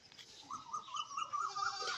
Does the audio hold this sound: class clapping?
no